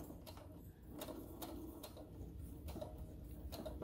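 A home sewing machine backstitching a fabric mask, a faint, even mechanical whir with regular stitch ticks close by.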